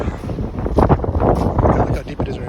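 Strong wind buffets the microphone on a closed snowy mountain road after a snowstorm, a steady loud roar with gusty swells throughout and no clear speech.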